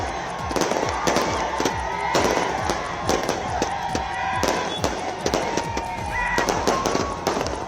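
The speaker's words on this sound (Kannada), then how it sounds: "ಕಲಬುರಗಿಯಲ್ಲಿ ಅಭಿಮಾನಿಗಳು ಪಟಾಕಿ ಸಿಡಿಸಿ ವಿಜಯೋತ್ಸವ ಆಚರಿಸಿದ್ದಾರೆ" Firecrackers burst outdoors in Kalaburagi as RCB fans celebrate a cricket victory, with dense irregular loud cracks and pops that fire continuously over a murmuring crowd and faint bird calls.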